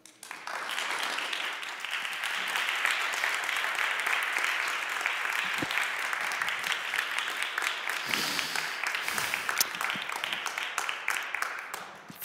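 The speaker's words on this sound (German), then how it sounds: "Viel Applaus für eure Gedanken" Sustained audience applause at a university event after a talk, a dense even clapping that swells quickly, holds for about twelve seconds and thins toward the end.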